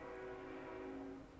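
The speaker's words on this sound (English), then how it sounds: "as you hear the train departing in the distance" A train departs in the distance as a sound effect during a City of Mist tabletop roleplaying session: one sustained, horn-like tone that fades slightly at the end.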